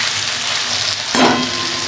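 Fried taro stolons tossed with sugar in a pan, a continuous bright sizzle with a brief louder stir scrape midway, no talking.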